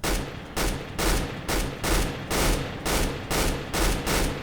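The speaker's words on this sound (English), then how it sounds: "even with a machine gun, short, controlled bursts like that" Short controlled machine gun bursts in CS:GO, roughly ten evenly spaced rapid-fire volleys, loud and close, each lasting about a third of a second with brief gaps, no talking.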